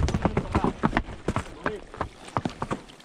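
Arabian horses clip-clopping up a trail in a steady, close rhythm of hoof strikes, with a rider talking over them.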